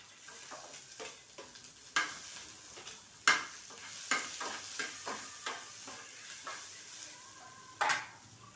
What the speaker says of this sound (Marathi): आता लसण टाकायचं आहे त्यामध्ये.